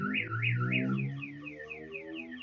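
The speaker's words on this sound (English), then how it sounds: "there are alarms going off and cars roaring by." A car alarm wails through an open window, cycling in a repeating rising-and-falling siren pattern, moderately distant and steady with no talk over it.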